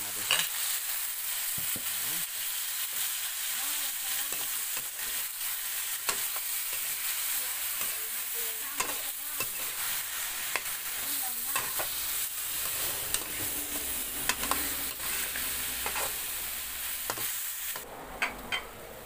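Stonefish cooking with tomatoes in a pan, a steady close sizzle broken by frequent clinks and scrapes of stirring throughout.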